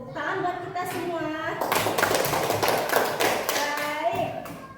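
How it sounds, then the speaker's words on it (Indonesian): Children in a fourth-grade classroom clap their hands together in a burst of rapid, fairly loud clapping lasting a few seconds. Voices talk over the clapping. "Tepuk tangan buat kita semua."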